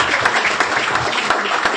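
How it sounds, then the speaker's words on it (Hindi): An audience bursts into loud, dense applause, a continuous wash of many hands clapping at once that fills the whole brief moment without pause. "तो मैं चाहूंगा इनके लिए एक बार जोरदार तालियां।"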